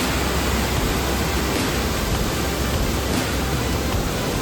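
Water overflowing the spillway at Aruvikkara dam, a steady, loud broadband rush with no breaks, close and continuous throughout with no voices.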